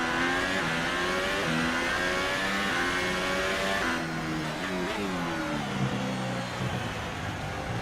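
Formula 1 race car engine in the video game F1 2018, a loud continuous high-pitched whine climbing and dropping through repeated gear shifts as the car laps the track, with no talking.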